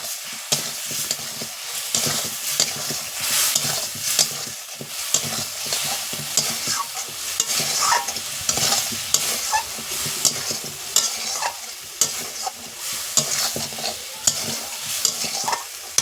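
Hog plums fried with ground mustard paste, turmeric and Kashmiri red chili powder are stirred in a pan, giving steady scraping stirs over a continuous close sizzle with no talking.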